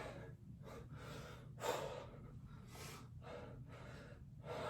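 Heavy rhythmic breathing during a long high-intensity home workout, repeated close exhales and gasps in steady succession over a constant low background hum.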